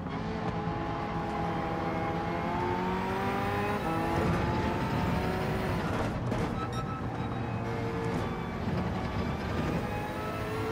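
A car driven in the Gran Turismo 7 video game, played on PSVR2, hums with a steady engine note whose pitch rises and falls through gear changes, loud and continuous with no talking.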